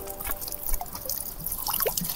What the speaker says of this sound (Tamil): இங்கே தண்ணி கொட்டிங்க இருக்கு